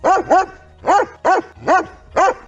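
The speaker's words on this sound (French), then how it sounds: "C'est le chien du gardien du cimetière qui lui aussi peut voir l'esprit de Henri" A cemetery keeper's dog barks six times, loud and close, in quick pairs with short pauses between, with no voices over it.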